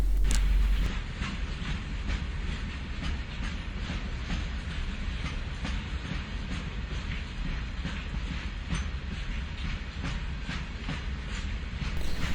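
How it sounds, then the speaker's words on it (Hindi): A train runs through Kanjur railway station without stopping on the line toward Attock, Pakistan, with a steady loud rolling rumble, wheel hiss and a repeating clickety-clack of carriage wheels over rail joints, heard close up from on board. "अभी हमारी ट्रेन कंजूर रेलवे स्टेशन से गुज़र रही है।"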